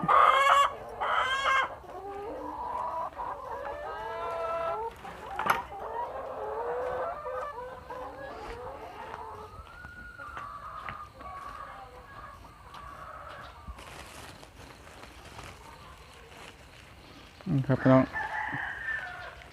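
Laying hens cluck and call while being fed rice, with a rooster crowing among them; busy, varied bird noise close by, loudest at the start, fading to softer clucks, then a brief burst near the end.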